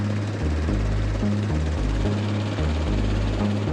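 Chinook twin-rotor military helicopter in flight, its heavy rhythmic rotor thump pulsing steadily and loudly over a dense, continuous engine roar throughout.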